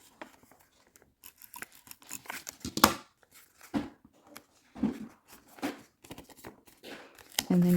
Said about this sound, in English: run down my tape on an angle where the score line is. And we're going to tape on this side.